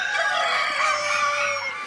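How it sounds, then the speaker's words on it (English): A rooster crows at a Belgian cock-crowing competition, one loud, sustained, close crow that holds steady for nearly two seconds with no talking. "Bartholomew, crowing today in box 50, is leading by a short head from Albert"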